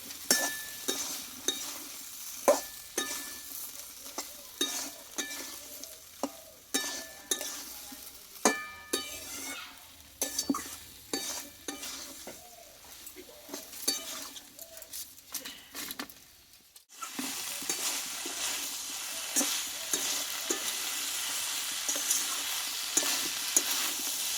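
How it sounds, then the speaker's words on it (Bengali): Potatoes, soyabean and pointed gourd sauté in spice masala, with repeated spatula scrapes and clinks against the pan over a low sizzle, then a louder, steady frying hiss takes over for the final stretch. "আলু সোয়াবিন আর পটল আমি একসঙ্গে দিয়ে দেব এই মশলার সঙ্গে আরও কিছুক্ষণ মতো কষিয়ে নেব সবজিটাকে"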